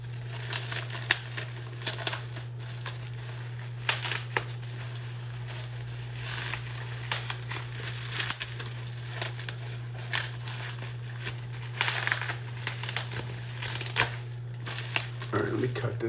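Plastic packaging around Star Wars comics being wrestled open, a steady run of crinkling, crackling handling noise over a constant low hum, with several sharper tearing bursts close by and no voice.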